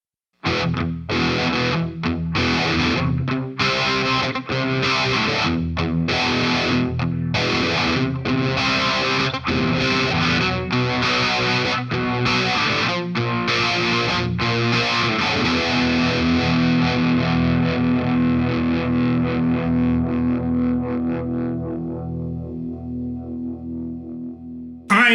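A heavily distorted electric guitar plays through the ultra gain channel of a Marshall DSL 20 amp and an MXR Script phaser pedal, with swirling, sweeping tone on loud rhythmic chord chugs and riffs, ending on a long sustained chord that fades.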